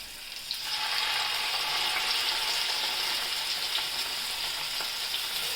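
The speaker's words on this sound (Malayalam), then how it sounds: "എണ്ണ ചൂടായിക്കൊണ്ടിരിക്കുകയാണ്. നമുക്കിനി കൊഞ്ചിനെ ഓരോന്നായിട്ട് നമുക്ക് ചട്ടിയിലേക്ക് വെച്ച് കൊടുക്കാം." Tiger prawns hitting hot oil in a pan, Kerala style, heard as a loud, steady close-up sizzle that starts abruptly and holds as a dense hiss for several seconds, with no voices.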